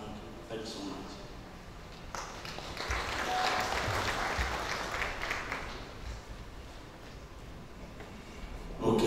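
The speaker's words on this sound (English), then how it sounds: "let's give them a round of applause" A round of applause at a church funeral service rises from a quiet room, swells into broad clapping through the middle, then thins out, with voices audible around it.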